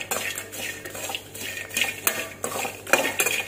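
Spiced peanuts tossed with a spoon in a metal pan, the spoon scraping and clinking against the pan in uneven strokes, close and fairly loud with no talking.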